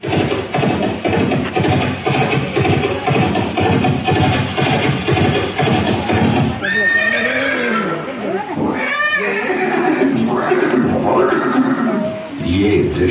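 Sharp, high whinnies from a horse rise and fall in several bursts, loud and close, over a dramatic backdrop in a scene of Maharana Pratap and his horse Chetak, with a voice speaking at times.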